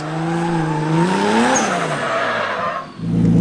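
A 2JZ-engined Nissan 350Z rises and falls in pitch as tires squeal and scrub, loud and continuous, like a car sliding through a drift with handbrake and throttle.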